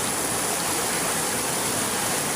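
Typhoon floodwater rushes in a steady, loud, broadband roar with no breaks, close by and unaccompanied by voices.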